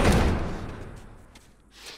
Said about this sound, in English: Barricade the door.